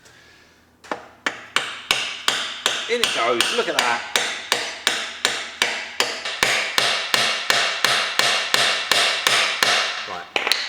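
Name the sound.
hammer striking metal part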